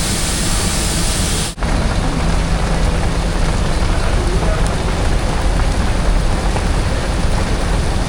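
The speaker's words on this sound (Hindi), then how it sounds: "बारिश की आवाज़ सुनते हैं।" Rain falls during a train journey from Lahore to Sangla Hill as a loud, steady, dense hiss throughout, broken only by a brief dropout near the start.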